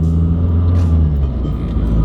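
A Mazdaspeed 3 with a new motor mount driving along, a loud, steady low engine drone and road rumble heard from inside the car, with a brief lighter rush partway through.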